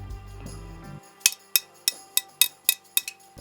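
A forged mild steel cowbell with a hammer-textured surface is struck eight times in a steady rhythm, each close, bright hit ringing with a glassy metallic tone after a brief low rumble fades out.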